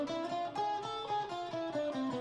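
A guitar plays a steady run of single plucked notes moving stepwise through an A harmonic minor scale, each note ringing briefly into the next.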